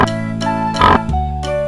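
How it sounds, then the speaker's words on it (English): A pig oinks and grunts in a short sequence of snorting calls over a cheerful children's music backing track. "Pig."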